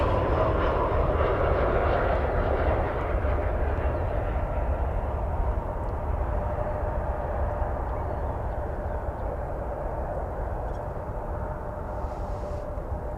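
Airbus A320 landing at DFW Airport, a steady, loud jet engine roar that holds at an even level throughout with no voices, slowly easing a little toward the end.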